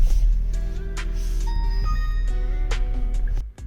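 A Starline i96 immobiliser fitted to a 2021 Jeep Wrangler plays a short electronic melody of stepped tones after the code is entered. Soft clicks sit over a low background hum, and the sound cuts off abruptly at the end.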